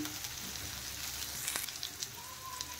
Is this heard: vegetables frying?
yes